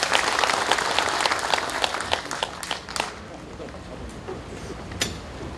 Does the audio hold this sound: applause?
yes